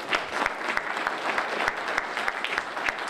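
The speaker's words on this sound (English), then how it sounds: "A round of applause for them." A crowd at an aircraft rollout event claps together, a full, steady round of applause lasting a few seconds with sharp individual claps standing out close by.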